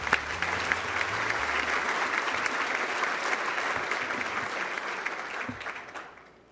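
An audience at a global climate summit applauds after a film screening, with sustained, dense clapping from a large crowd that holds steady and then tapers off at the very end.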